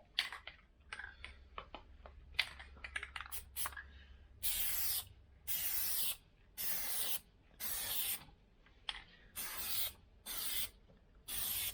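Plasti Dip rubber coating sprays from an aerosol can onto a car badge and lettering, coming as a run of even hissing bursts about a second long, close and fairly quiet, after a few shorter clicks and scuffs.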